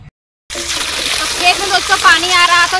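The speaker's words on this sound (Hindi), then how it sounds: "पानी आ रहा था" Irrigation water pours and splashes in a farm field, beginning abruptly and running as a loud, close, continuous gush.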